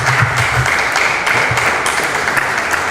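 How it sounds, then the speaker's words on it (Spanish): Steady, dense applause from an audience greets the vice president of a commission at an event for the national day of persons with disabilities. It is loud and continuous throughout with no let-up. "Aplausos para ella."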